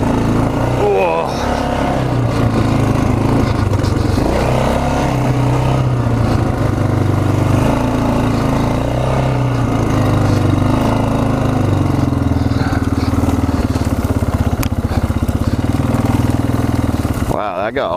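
Yamaha Grizzly 600 four-wheeler ATV engine running steadily while riding, a continuous loud low drone that holds through the ride before cutting off sharply at the end, with a voice briefly heard over it.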